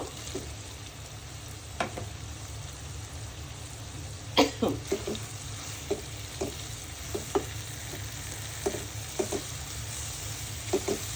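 Shredded beef tossed into spiced turmeric and chili masala in a pan, a steady low sizzle with repeated clinks and scrapes of stirring at uneven intervals, close and fairly quiet with no talk.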